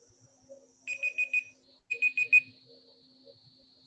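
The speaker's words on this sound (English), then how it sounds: "No, that's my timer for the HPLC." A laboratory timer for an HPLC instrument goes off with two bursts of four quick, shrill electronic beeps, a short pause between the bursts, then a faint high tone lingering over a quiet room.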